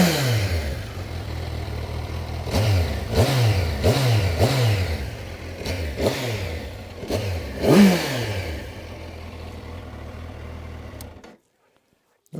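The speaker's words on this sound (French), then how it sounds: "je vais te faire écouter le bruit du moteur" Kawasaki Versys 1100 SE four-cylinder motorcycle fitted with an Akrapovic exhaust, revved in a series of sharp throttle blips rising and falling, loud and close, then cut off abruptly near the end.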